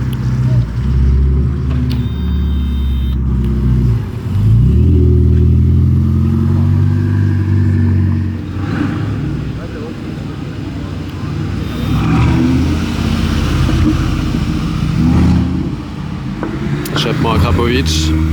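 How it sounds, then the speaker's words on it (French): A supercar fitted with an Akrapovic exhaust revs on a Monaco street, its deep engine roar swelling and holding close and loud for most of the stretch while people talk over it. "Échappement à Krapovic."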